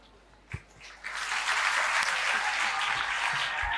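After a couple of brief knocks, a crowd at a stage event in Garhakota bursts into loud, dense clapping to welcome Deepu Bhaiya, building quickly and holding strong and steady to the end.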